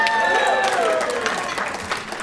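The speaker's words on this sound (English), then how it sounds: "Sharon, let's get a cheer over there." A crowd at a fundraiser auction cheers and applauds continuously, close and loud, with whistles and scattered voices rising through the dense clapping.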